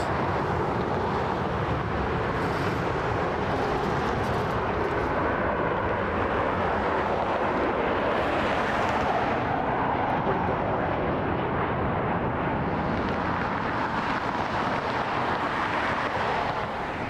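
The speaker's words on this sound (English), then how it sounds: "we have another American Airlines jet, Boeing 737-800" An American Airlines Boeing 737-800 jet comes in to land on short final, giving a loud, steady broadband roar that holds for the whole stretch with wind buffeting the microphone.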